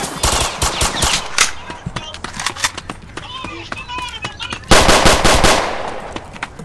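Machine gun fire in a video game: sharp, loud bursts of rapid automatic shots in irregular volleys, with a heavier burst near the end, while young players talk excitedly over the action.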